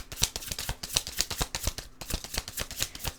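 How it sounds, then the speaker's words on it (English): Tarot cards being shuffled by hand, a quick run of crisp riffling bursts repeating in a steady rhythm, close and fairly quiet, with no talking. "See, ton of shuffling. I never have to shuffle this much."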